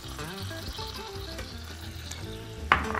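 Veal bones browning in a roasting pan for a Christmas roast, giving a steady close sizzle and frying hiss with a brief clink of the pan near the end.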